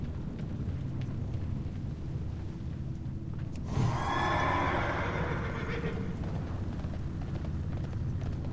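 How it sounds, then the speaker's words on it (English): In World of Warcraft's Molten Core, a divine steed mount lets out one whinny, a bright, wavering neigh lasting about two seconds, over a constant low rumbling game ambience. "Starting to wish I actually had 2 charges on my divine steed here."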